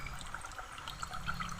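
Spring water flows from a bamboo spout on a hillside farm, a soft, steady trickle and splash heard close by and fairly quiet, with no voices.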